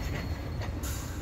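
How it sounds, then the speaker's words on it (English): A VIA passenger train rumbles past nearby during a winter blizzard in Dorval, a steady broadband roar with wheel noise and a brief higher hiss, continuous throughout. "now we got a VIA train"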